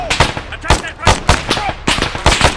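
Automatic machine-gun fire in the military shooter ArmA 3 crackles in repeated loud, rapid bursts, several sharp volleys in quick succession amid close battlefield noise.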